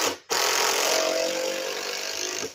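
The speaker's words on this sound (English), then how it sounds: "I put the 2x4 down first, and I drill a screw in it." A power drill whirs up sharply and runs steadily for a couple of seconds, driving a screw into a 2x4 close by, then winds down.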